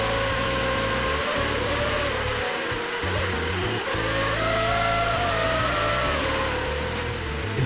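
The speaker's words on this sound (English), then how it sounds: "Listen again here for the oscillations of the motor." An FPV drone's motors whine at close range during a maneuver, a dense high buzz with wavering, oscillating tones and uneven low rumbles throughout.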